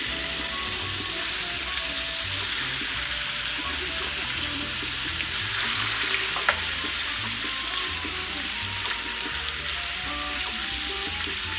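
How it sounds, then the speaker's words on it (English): Shrimp seasoned with black pepper and salt sautéing in a pan for rasta pasta, giving off a loud, steady, close sizzle with occasional stirring that carries on without a break, no voices. "So I'm just going to saute the shrimp a little."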